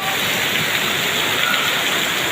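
Heavy rain pours down steadily in a dense, continuous hiss, loud and close, with no voices.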